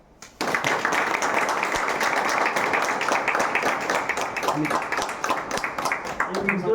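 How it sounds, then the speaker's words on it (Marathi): Audience at an achievers' celebration clapping, a sudden burst of sustained applause that fills the room steadily from start to finish, fairly loud and even. "टाळ्या वाजवा."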